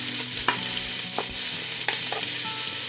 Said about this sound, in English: Once your oil is nice and hot, add your onions,